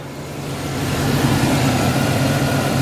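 A big block farm truck engine idles with a deep, rumbling, slightly uneven beat from a small miss, close and steady for a few seconds.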